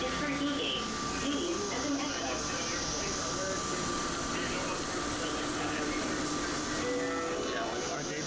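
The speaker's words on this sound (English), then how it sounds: "Stepping on board the air train in Atlanta, and this train can take you to any terminal in Atlanta." The airport air train at Atlanta's airport, heard from on board as a steady, continuous rumble and whine of rail running, loud and close throughout, with faint announcements or voices mixed in.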